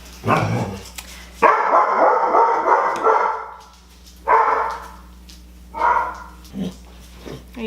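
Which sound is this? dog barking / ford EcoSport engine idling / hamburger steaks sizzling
dog barking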